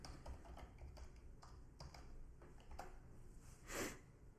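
Keys clatter on a computer keyboard as a search is typed in, a quick run of light, irregular clicks close by with a brief louder swish near the end and no talking.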